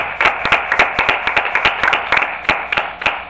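A church audience claps for Jesus Christ at an evening service, a sharp close burst of uneven hand claps, loud and fairly rhythmic, lasting a few seconds.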